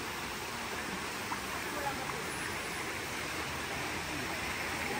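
A river flows past a riverside campsite at Ecotree Camp Semungkis, making a steady, even rush of water that holds at moderate level throughout without pause.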